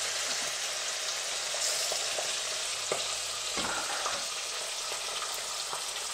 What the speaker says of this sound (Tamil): இப்போ இந்த மீன் வறுவல் வந்து நம்ம இரும்பு சட்டியில் வந்து வறுக்கிறோம்.